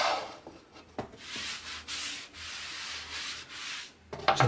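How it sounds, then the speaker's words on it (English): A wet flannel rubs over wood to wipe away glue overflow, making repeated broad scrubbing strokes, close and fairly loud, with a few knocks between passes and no talk. "I need to use a wet flannel or something to clean off the bits of overflow"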